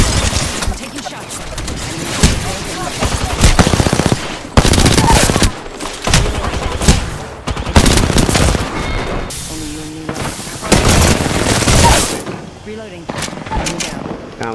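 Gunfire in the Apex Legends battle royale game: repeated loud bursts and rapid volleys over about fifteen seconds, mixed with game voice callouts and other in-game effects.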